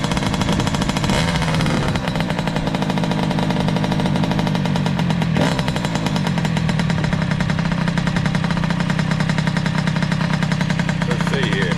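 A 2003 Kawasaki KX60 dirt bike engine runs at a steady, loud idle throughout, a continuous buzzing drone with a brief throttle blip near the start and a faint clatter midway.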